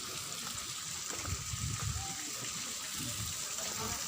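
Very hot spring water gushes in a continuous, broadband rush near a natural spring with rock formations, a steady, fairly loud flow without a break.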